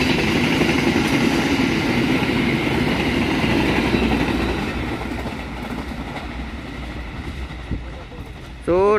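A train passes a level crossing on an Indonesian railway with a loud, steady rumble and rattling wheels. The noise slowly fades as the cars go by, and a brief sharper sound comes at the end.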